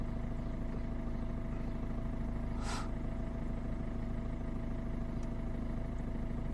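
A Volvo S40 1.6 diesel with fault code 2A30 and limp mode idles with a steady, even drone, broken by one short, sharp burst near the middle.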